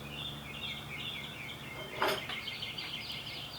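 Birds chirp steadily outdoors in a soft, continuous high twitter, with one brief louder clunk partway through and no talking.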